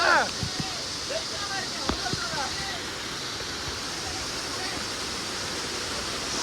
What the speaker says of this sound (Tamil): இந்த தண்ணி எவ்வளவு போர்ஸா இருக்கு பத்தியா